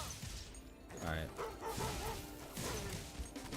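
Cartoonish sheep dogs bark and yip in a level of Spyro Reignited Trilogy, short bursts of barking among game sound effects, fairly quiet, with a player talking over them.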